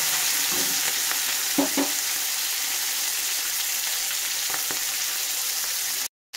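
Crab pieces and shrimp sizzle in a frying pan, a constant crackling hiss broken by a few soft stirring clinks before the sound cuts out briefly near the end.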